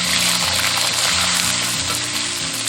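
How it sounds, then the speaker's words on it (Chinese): Scallion, ginger and soaked dried scallops, shrimp and shiitake frying in hot oil in a wok, giving a loud, steady sizzle with no pauses. "锅中倒食用油，下入葱姜泡好的干货炒香。"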